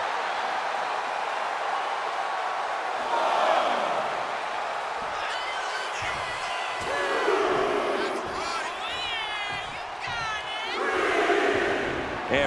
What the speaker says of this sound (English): And Buck is firing up the crowd here.